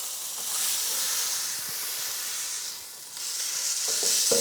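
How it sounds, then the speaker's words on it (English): A 30-day dry aged tomahawk steak sears in a hot pan with a loud, steady sizzle and hiss that briefly softens midway, then swells again with faint crackles, and no one speaks. "I'm gonna get it right in my hot pan. And we're just gonna give it a really quick sear."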